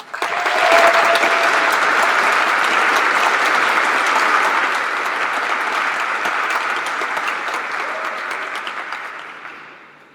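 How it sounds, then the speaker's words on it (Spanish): An audience at a university congress inaugural ceremony in Valparaíso applauds a guest speaker with loud, dense clapping that swells quickly, holds steady and gradually tapers off over about ten seconds. "Recibámosla con un fuerte aplauso."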